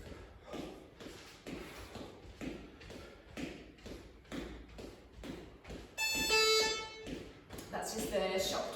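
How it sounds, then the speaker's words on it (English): A shop door opens around the six-second mark with a sudden bright, ringing chime-like burst, cutting over a steady rhythm of thudding, marching footsteps and background talk during an exercise class. "that noise is the shop door opening"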